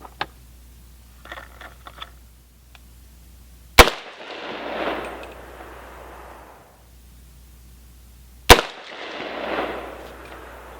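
Two sharp, loud gunshots from an AR pistol firing 300 AAC Blackout reloads with 245 grain lead bullets and 1680 powder, each crack followed by a broad echo tail, outdoors with quiet handling clicks between.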